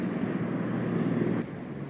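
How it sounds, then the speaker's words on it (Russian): Steady wind rushes and buffets the microphone throughout, easing slightly near the end, with no voices. "Сегодня у нас ветер дует"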